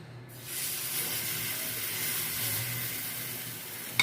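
Steady hiss of vegetable roti batter sizzling in a hot wok, starting with a sharp onset and holding a continuous bright sizzle with no talking.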